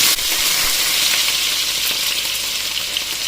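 Garlic frying with sesame seeds in a hot pan gives a steady, close, loud sizzle with a crackling hiss throughout and no talking.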